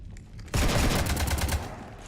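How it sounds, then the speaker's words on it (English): Sudden burst of sustained automatic gunfire raking a ship in the video game Mass Effect 3, loud dense rapid shots starting abruptly and rattling on for about a second before easing into a lingering rumble. "You want to stop shooting up my ship?"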